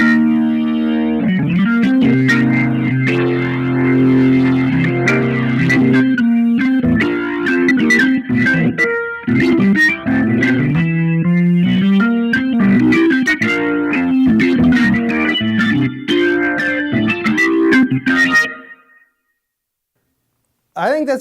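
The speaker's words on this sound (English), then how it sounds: "But this is a Hammond organ." A Hammond organ patch on a Fishman Triple Play guitar synth, dirtied with distortion, plays sustained chords and quick runs loudly and steadily before cutting off into near silence.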